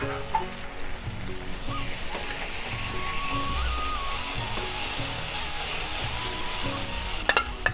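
Cabbage kofta curry frying in ghee with a little white oil, giving a steady, close sizzle and crackle that runs the whole time, with faint stirring clinks near the end.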